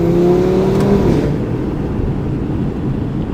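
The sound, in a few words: Audi RS3 accelerating with Eventuri intake sound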